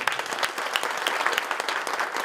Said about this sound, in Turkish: Bu gizli santrafora kocaman güçlü bir alkış istiyoruz.